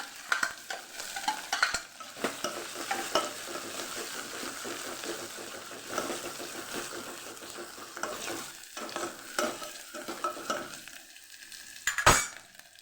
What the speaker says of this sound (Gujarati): સૂકા મરચાં અને તમાલ તમાલપત્ર ઉમેરીશું મીઠા લીમડાના પાન અને લીમડો અને મરચાં ઉમેરી દઈશું